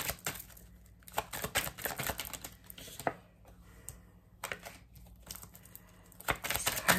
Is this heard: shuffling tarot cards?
yes